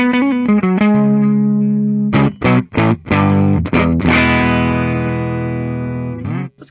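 A 2006 Gibson Vegas High Roller electric guitar played through its pickups, with a quick picked phrase followed by strummed chords and a long ringing sustained chord, rich and close with an effects-tinged tone.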